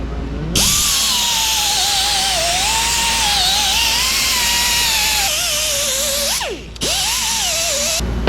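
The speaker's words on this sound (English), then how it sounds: "Try the old stripper wheel here." A power drill fitted with a paint stripping wheel grinds against metal with a loud, continuous whine that wavers in pitch, dips briefly near the end, then resumes.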